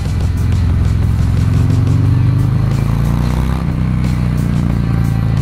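Harley-Davidson FXDR 114 (2018) V-twin engine revving hard against its rev limiter, a loud, close, continuous roaring throb with a rough cutting pulse.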